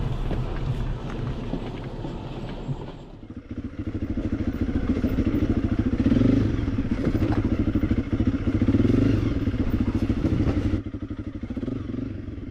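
A large, heavily loaded adventure motorcycle rides the rough Porika Track toward Lake Rotoiti, its engine droning steadily and rising in bursts, with clatter and wind buffeting throughout and no talk.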